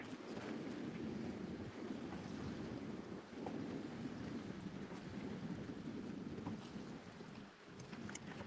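Strong wind blows across an open lake during bass fishing, producing a continuous loud rush and buffeting rumble with water noise, with no one talking.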